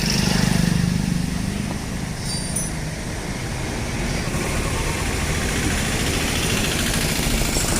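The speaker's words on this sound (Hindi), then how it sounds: "टाइमिंग चेन आवाज़ कर रही है इसकी" A motorcycle engine idles steadily with a noisy timing chain, giving a constant low rumble with a faint rattling texture in a repair shop; no talk is heard.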